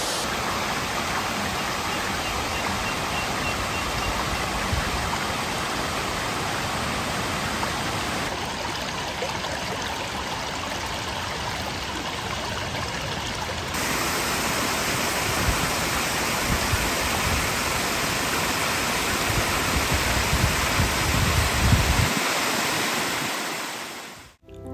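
Katoomba Falls in the Blue Mountains pours in a constant, loud roar of rushing water mixed with wind, steady and unbroken with no voices.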